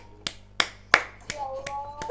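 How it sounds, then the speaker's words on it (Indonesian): A few separate hand claps during an online physics lesson taught over Zoom, six sharp, evenly spaced claps, close and fairly distinct, with a faint tone lingering in the background between them. "Semua tepuk tangan."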